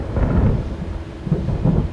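Thunder rumbles low and heavy under steady rain in a TV drama scene, a loud continuous roll with swells near the start and end and no voices.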